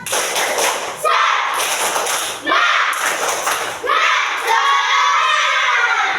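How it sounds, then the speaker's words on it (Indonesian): Children in a classroom perform a spirit clap, with loud bursts of rhythmic clapping and shouting in several waves, each separated by a short pause. "Tepuk semangat."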